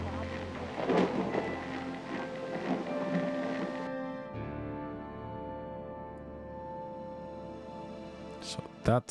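Rain recorded on a tape in the game Whispers of a Machine: steady broadband rain hiss with low rumbles like distant thunder, then a thinner, quieter stretch of drizzle-like noise with a tonal hum, ending in a brief clatter.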